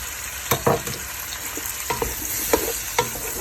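Potato strips and shrimp are sautéed in a pan, a soft continuous frying sizzle broken by several sharp scrapes and knocks of a spatula stirring, close by with no speech.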